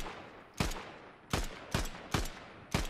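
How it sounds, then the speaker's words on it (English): Five sharp, loud gunshots from a video game match ring out singly at uneven intervals, each with a short decaying tail, over a low steady background. "Those shots were nowhere close to hitting that guy"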